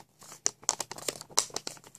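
A sheet of origami paper is creased and reverse-folded into a crane pop-up card, giving close, crisp crinkles and sharp snaps in an irregular series of short bursts.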